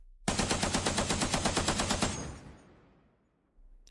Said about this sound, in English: your fellow tankers are cut down by machine gun fire